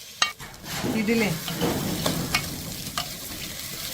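Roasted vermicelli mixture is stirred in a pan with scraping strokes over a soft sizzle and a few light clicks of the utensil, while a voice briefly speaks.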